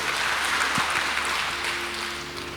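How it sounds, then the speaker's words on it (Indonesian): A church congregation claps for Jesus during a sermon, a steady burst of applause that gradually softens, with a faint hum beneath it. "tepuk tangan buat Yesus gini."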